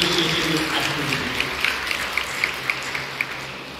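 An audience at a Delhi University college event claps for the Students' Union, a soft, thinning patter of applause fading to a few scattered individual claps near the end.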